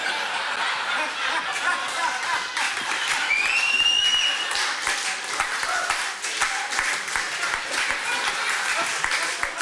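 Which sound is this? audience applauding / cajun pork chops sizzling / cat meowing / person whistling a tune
audience applauding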